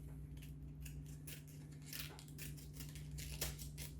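Leaves are cut off an artichoke with a knife in a kitchen. Soft, crisp snipping and crunching strokes repeat in an uneven rhythm, quiet and close, over a low steady hum, with no talk.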